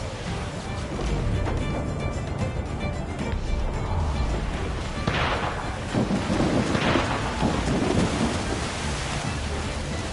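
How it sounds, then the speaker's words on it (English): Mortar fire booms amid the roar of a naval battle in Assassin's Creed IV Black Flag, heavy deep rumbles rolling over constant sea and wind noise, with muffled shouting underneath. "They're firing mortars!"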